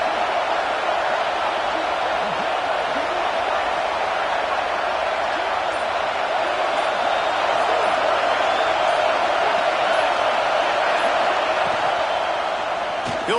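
Football stadium crowd roaring steadily as the home defense is backed up late in the game, a dense, continuous wall of cheering and shouting with no break, loud and close throughout.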